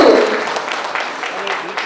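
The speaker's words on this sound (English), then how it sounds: "Big round of applause." An audience at a smartphone launch event applauds, a loud sustained wash of clapping with a brief voice at the very start.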